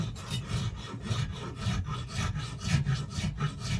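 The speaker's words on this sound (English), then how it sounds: "So what I'd do is I'd go back to the rasp and I'd come in here" A rasp filing a wooden axe handle in steady back-and-forth strokes, a close, rhythmic scraping rasp repeated about three times per second with no talking.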